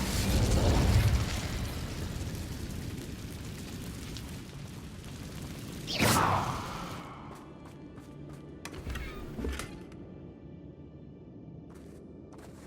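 Spell effects from Hogwarts Legacy, including a burst around six seconds into a fiery whoosh that fades, then scattered smaller pops and crackles over low game ambience; no voices.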